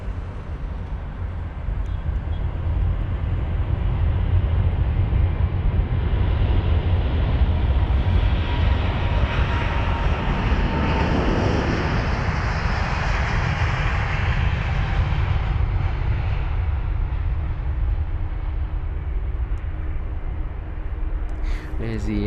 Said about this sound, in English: There's the Airbus A350 of British Airways.